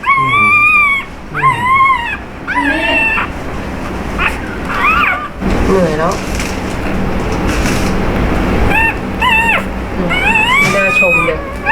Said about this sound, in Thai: ร้องเหมือนเสียงลาวาร้องเลย